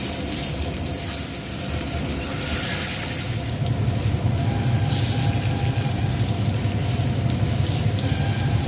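Bottle gourd leaf fritters fry in hot oil, a loud steady bubbling sizzle that grows slightly louder halfway through and continues close and unbroken, with no voices.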